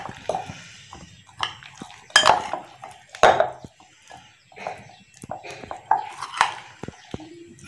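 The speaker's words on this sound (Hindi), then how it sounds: "अभी अच्छी तरह इनको सारे मसाले को जो है ना मिक्स कर लेते हैं।" Fish being mixed with spices, besan and lemon juice in a bowl produces close, irregular clinks and scrapes of a spoon against the dish, with soft wet mixing sounds between the sharper knocks.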